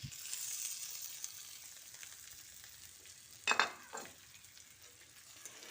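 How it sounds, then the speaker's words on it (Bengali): Fried pointed gourd and potato pieces tipped into simmering dal in a Bengali potol dish, a soft steady sizzle with scraping stirs and a brief louder clatter as the vegetables go in, no voices. "এবার ডালটাকে কিছুক্ষণ নাড়াচাড়া করে এর মধ্যে ভেজে রাখা পটল ও আলুটা দিয়ে দিচ্ছি"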